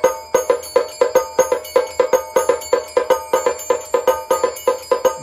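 A small motorized aarti instrument driven by a motor, cam, levers and spring, striking a bell in a fast, steady mechanical rhythm of bright metallic rings, loud and close, with no voices.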